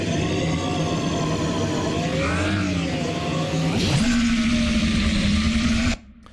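A heavily compressed sci-fi vehicle engine, squashed by a multi-band compressor set to 100%, drones with a dense, buzzing hum and pitch sweeps, then jumps to a higher steady tone before cutting off abruptly.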